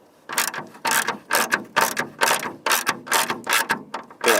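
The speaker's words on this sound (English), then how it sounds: "So we're going to undo these 10mm bolts." A ratchet undoing 10mm bolts on a Toyota Corolla AE92 sunroof, giving a series of about a dozen quick clicking ratchet bursts in an even rhythm, close up with no talking.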